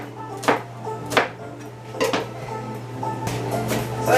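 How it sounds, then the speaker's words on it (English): An onion being julienned with a knife on a cutting board, giving a handful of sharp, separate knocks spaced irregularly over a low steady kitchen hum, close and clear. "I'm going to use the rest of this onion. I'm just going to julienne it,"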